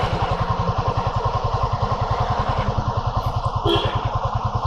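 A Honda CB300F motorcycle cruises in third gear at low speed, its engine thumping in a steady, close, loud pulsing rhythm throughout with no talk.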